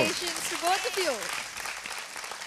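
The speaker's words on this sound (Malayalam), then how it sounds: "ആൻഡ് സ്റ്റെപ്പ് അപ്പില് അടുത്ത റൗണ്ടിലേക്ക് പോകുന്ന ഷാർലറ്റിനും സൂര്യകിരണിനും ഒരു വലിയ കൈയടി ഓൾസോ." A studio audience at a televised children's talent show applauds in a dense, continuous burst as a presenter speaks over the clapping.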